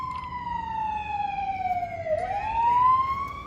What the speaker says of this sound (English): Oh, fire truck, fire vehicle going out.